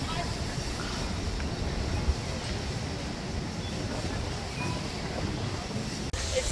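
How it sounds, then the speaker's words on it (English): Strong wind on Roosevelt Island batters the microphone with constant loud, rumbling buffeting for the whole stretch, without pause and with no clear voices. "It's very windy"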